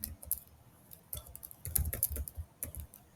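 Keyboard typing of a GitHub repository name, short bursts of quiet close key clicks with brief pauses between, faint and unaccompanied by talk.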